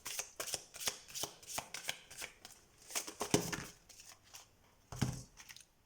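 Tarot cards shuffled by hand at close range, a rapid series of crisp riffling flicks and soft slaps in uneven bursts, quiet and without speech.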